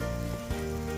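Chicken hisses and sizzles as it hits a hot pan, a brief, steady frying crackle with a small bump partway through.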